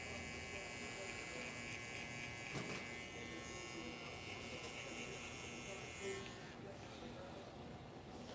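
Electric hair trimmers buzz steadily at close range while cleaning up a beard during a mohawk fade, the whine shifting slightly as they move, with a short louder scrape partway through.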